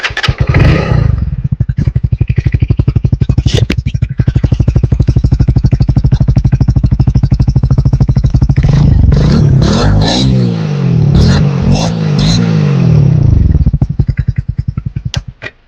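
A Hero Splendor Plus Xtec motorcycle engine running up close, a loud, even single-cylinder putter that rises into a couple of revs midway before settling back to a steady idle.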